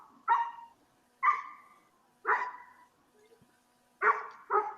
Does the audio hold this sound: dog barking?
yes